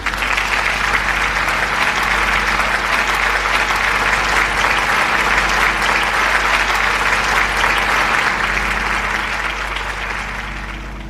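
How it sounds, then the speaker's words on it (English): Loud, sustained applause from a large audience fills the space evenly, then begins to fade slightly at the end. "please give yourselves a round of applause just for being here today."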